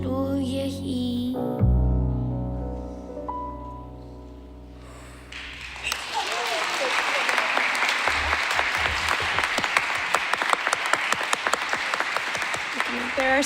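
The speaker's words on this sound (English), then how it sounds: "There are some times when we're allowed to clap during services, and that was one of them." A synagogue congregation claps during an Erev Shabbat service, dense sustained applause breaking out after a stretch of sung prayer and continuing loudly to the end.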